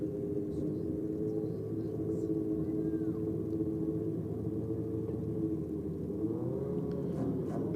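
Ford Falcon and Holden Colorado at a drag racing track championship, a steady engine rumble running throughout at moderate distance, with faint revving and a slight pitch rise near the end.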